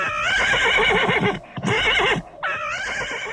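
A horse neighing sound effect on a story tape about an enchanted ebony horse: loud, close whinnies in three long bursts, separated by short breaks and heard with no talking.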